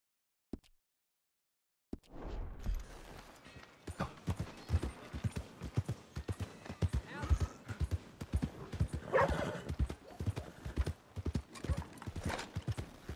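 Horse hooves clip-clop in a steady trotting rhythm in the video game Red Dead Redemption 2, crisp and fairly close, continuing throughout with faint background noise.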